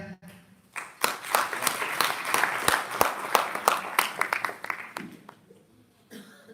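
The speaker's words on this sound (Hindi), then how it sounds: "तो पूरा आपकी तालियों के बीच आदरणीय संजीव भैया।" Applause from the audience at the closing session of a Jeevan Vidya gathering in Amarkantak: scattered sharp claps swell into irregular clapping, then thin out to a few claps, fairly close with a little murmuring.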